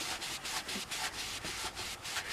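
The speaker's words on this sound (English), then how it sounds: "Just do a nice soft sand on her." Gentle hand sanding of paint off a doll, a rapid, even back-and-forth scratching in steady strokes, close up and loud, with no voices.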